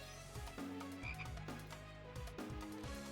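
Frog croaks from the Touhou: Lost Branch of Legend game repeat in several low, throaty pulses over about three seconds, close and fairly loud against a busy game backdrop, with no voices.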